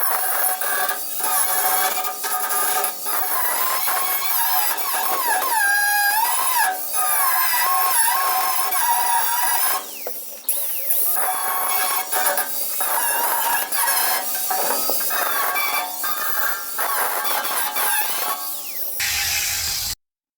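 A grinding disc finishes the welds on a metal gate with new hinges, producing a loud continuous high-pitched screech with shifting whining tones that runs almost without a break before stopping abruptly near the end.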